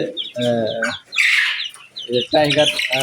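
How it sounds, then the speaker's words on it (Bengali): Young one-month-old tiger chickens cluck in short, close bursts, with bright chirpy calls rising between them and a louder cackle near the middle, all fairly near and filling the clip. "1 মাস বয়সের টাইগার মুরগি আছে"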